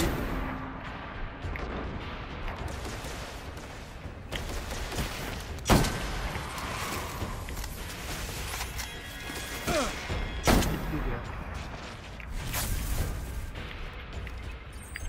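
Exotic sniper rifles fire in the Destiny video game, with sharp booming shots at irregular intervals over a busy layer of game effects and mechanical clatter.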